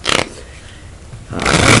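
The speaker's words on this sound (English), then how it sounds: "You shuffle these decks," A deck of playing cards being shuffled for a self-working card trick, with a loud riffling burst at the start and another swelling at the end, quieter handling between.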